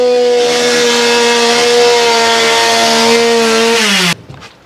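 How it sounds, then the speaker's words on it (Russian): A planer smoothing a pine lumber beam for a house build, a loud, steady whining motor drone that holds for several seconds, then winds down and cuts off abruptly. "Шикарный пиломатериал, который мы строгаем рубанком."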